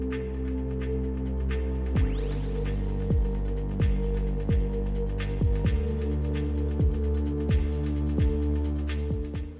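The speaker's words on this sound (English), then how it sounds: "So there's an ice machine actually on both sides." Hotel ice machine in a resort corridor near Disney Springs giving off a steady low electrical hum with a throbbing pulse, close and constant throughout.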